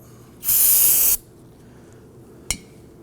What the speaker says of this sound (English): Got to follow up with a little bit of spray solvent on there to clean that up